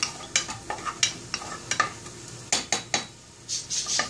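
Chopped onion stirred and frying in a pan for chicken with nopal, a spoon scraping in sharp, irregular strokes over a steady sizzle, close up with no talk.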